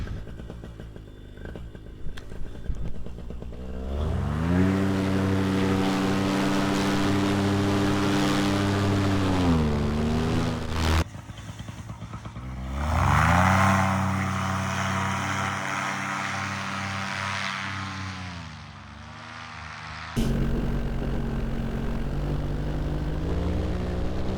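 A Parajet paramotor engine in flight on a morning flight: a loud, close, continuous propeller drone whose pitch rises and falls in long swells, briefly cutting and returning, with no talk.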